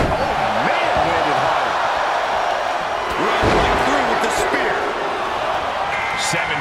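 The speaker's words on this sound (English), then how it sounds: "Listen to this crowd count the next one in." Rowdy arena crowd in the WWE 2K24 wrestling game, a loud continuous roar of many voices with a heavy slam partway through and commentary running over it.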